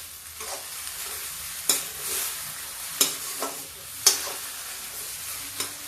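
Garam masala stirred into a spicy cabbage and peas curry in a pan, several spaced spoon scrapes and taps over a soft continuous sizzle, close and unaccompanied by speech.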